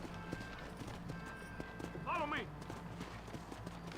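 Horse hooves clip-clopping at a gallop in a video game, a steady quick patter under speech and game noise, with a brief whinny partway through.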